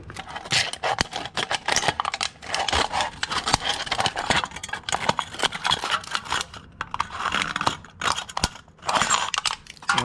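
An aluminum soda can being cut around its base to make an alcohol stove, giving a continuous rough rasping, scraping sound with rhythmic strokes, close and fairly loud throughout with no talking.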